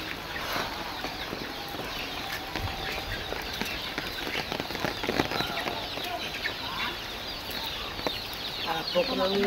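Chickens cluck and call in a rural farm setting during rain, faint and scattered over a constant wash of background noise, with no clear speech.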